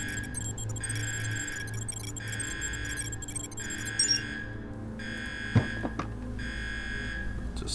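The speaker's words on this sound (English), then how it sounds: "of flipping the switch and setting off the alarm," An alarm tripped by a switch in UnderRail blares in repeating on-off pulses, steady and loud, with a brief clank partway through.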